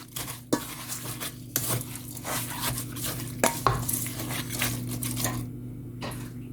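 Jamaican ginger beer ingredients, including brown sugar, being mixed with a utensil in a bowl, close irregular scraping and clinking strokes over a faint steady hum, no talk.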